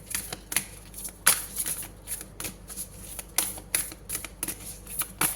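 Thick tarot cards shuffled and drawn by hand, giving repeated crisp riffling and slapping bursts in an uneven rhythm, close and fairly quiet.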